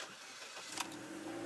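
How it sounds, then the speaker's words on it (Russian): An automatic Chevrolet car with a starting and overheating problem cranks and catches, a short engine start with a brief burst of noise that settles into a steady running hum. "Давайте попробуем завести."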